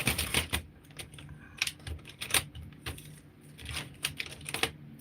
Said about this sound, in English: So let's just change the foot to a zipper foot.